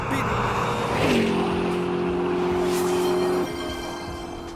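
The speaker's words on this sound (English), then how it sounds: "of course he's gonna use all the race cars and the train sounds." A race car sound effect roars past at close range, with a high engine whine that holds a steady pitch for a few seconds and then drops away as it fades.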